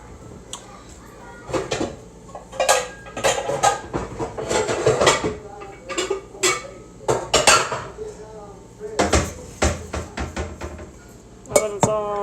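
Pound cake mixture being stirred in a saucepan, with repeated clinks and scrapes of a utensil against the pot in irregular bursts, close and fairly loud, with no talking.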